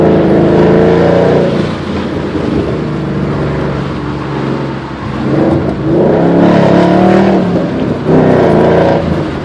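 A 2011 Ford Mustang GT California Special with a Roush exhaust revs loudly and close, its deep rumble swelling in several throttle blips with brief dips between, continuous and dominant throughout.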